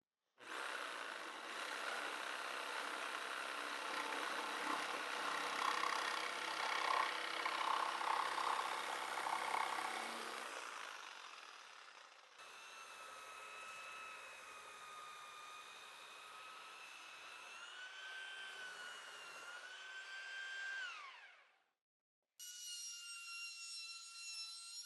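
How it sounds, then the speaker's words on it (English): A jigsaw buzzes loudly through a curve in wood for about ten seconds, then a belt sander takes over with a whining, rising drone that stops briefly and restarts. "So I'm going to take that off with my jigsaw, and then I'll just soften it up with my belt sander"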